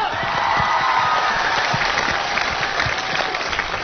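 A crowd applauds steadily and loudly at an event welcoming a troupe leader during a bouncing-stilts performance, with dense continuous clapping and some cheering.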